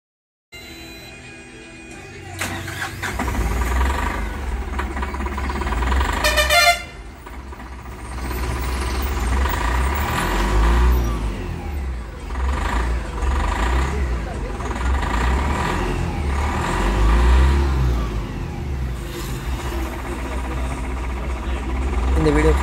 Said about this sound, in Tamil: இப்போ நம்ம வண்டியை ஸ்டார்ட் பண்ணி பார்த்துடலாம்.